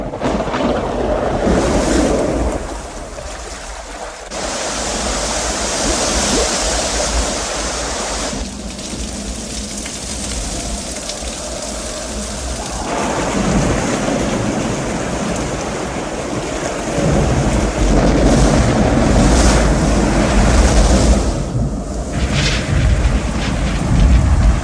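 Pouring deluge of water effect from the Living Seas show at Epcot Center, 1997: a dense, rushing roar like surging surf and wind that swells and eases in long waves, loud and unbroken, with no voices.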